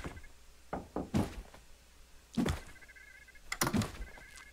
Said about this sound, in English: Hit on the door right now.